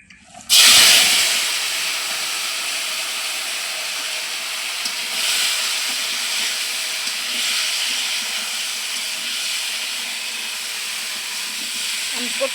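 Cooking oil heats in a wok on the stove before pointed gourd goes in, breaking into a sudden loud hiss that settles into a steady, close sizzle lasting the whole stretch.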